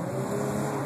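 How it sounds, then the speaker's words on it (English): A 2011 Dodge Challenger with a V6 engine winding up, a steady, loud engine drone heard from inside the car, held for under a second. "When the engine winds up, it seems to go okay, but it's got to wind up."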